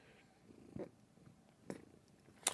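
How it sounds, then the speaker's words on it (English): A cat purring close to the microphone, low and quiet, broken by a few brief louder bursts and a sharp noise near the end. "Sound effects in the background while she purrs in the mic"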